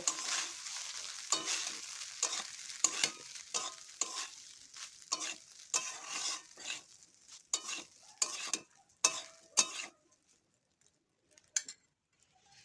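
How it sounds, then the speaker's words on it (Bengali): Vegetable fried rice stirred and tossed in a frying pan as rice is added, a close run of scraping strokes over a soft sizzle that stops after about ten seconds, leaving near silence with one last faint scrape. "আমি একটু একটু করে ভাত অ্যাড করব আর একটু করে নেড়ে নেব"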